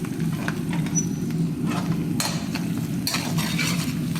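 Curry leaves fry in a pan while bottle gourd curry is being cooked, giving a soft, crackling sizzle with brief bursts of stirring scrapes, close and fairly quiet.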